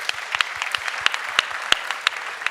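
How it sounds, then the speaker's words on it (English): A conference audience at a life science stage claps steadily with dense, continuous applause. Sharper individual claps stand out near the microphone. "Please give a big round of applause."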